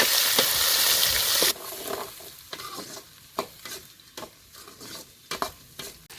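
Shallots with curry leaves and dried red chillies fry in sesame oil for spicy chicken, first as a loud sizzle, then quieter frying broken by repeated sharp stirring taps and scrapes against the pan.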